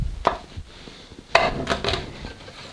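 Knife cutting a chicken carcass into three pieces on a cutting board, a few sharp thuds and crunching cuts with quiet gaps between, close and isolated.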